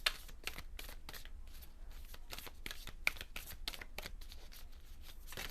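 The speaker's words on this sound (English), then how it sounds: "One more shuffle, guys." A large deck of tarot cards is shuffled by hand, with repeated soft riffling and snapping card flicks, close and fairly quiet.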